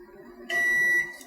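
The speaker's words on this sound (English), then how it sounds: "We got the beep saying it's ready." Chocolate melter from a truffle-making kit signals that the chocolate is ready with a single steady electronic beep lasting about half a second, close and clear over a quiet room.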